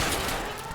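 Rapid gunfire during a car chase in the LA Noire video game, shots aimed at a fleeing car's tires, dense and continuous for under a second with faint voices underneath.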